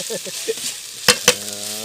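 Two sharp metallic knocks against a wok ring out over a steady frying sizzle while stir-frying spicy eel, with some stirring scrapes before them.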